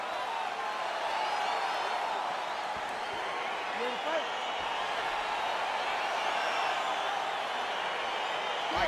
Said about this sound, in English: crowd getting excited as this fight gets underway